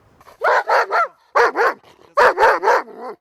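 A police dog barks in three tight bursts of loud, close barks, each burst holding two or three rapid woofs separated by short pauses, with no voices over it.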